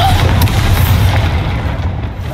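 A Bombarda spell blast in the game Hogwarts Legacy, a loud, booming explosion that hits at once and rumbles on with a deep low roar as it fades.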